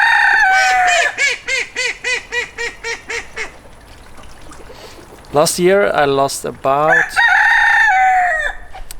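Backyard chickens and a rooster: a run of rhythmic, honking calls in the first few seconds, then a loud crow and squawks near the end, mixed with a man's speech.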